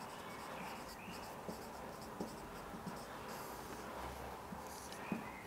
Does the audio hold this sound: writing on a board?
yes